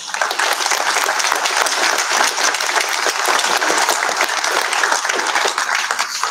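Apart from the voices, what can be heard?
church congregation applause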